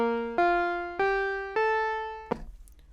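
A Moog Matriarch synthesizer with its oscillators combined into one voice sounds four bright, harmonically rich sustained notes stepping upward, each decaying slowly before the next, the last cut short, close and alone.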